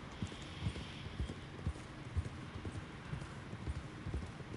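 Horse hooves clip-clop steadily at a walking pace in Red Dead Redemption 2 while riding through a forest, a close, even rhythm of soft thuds with a low background rumble.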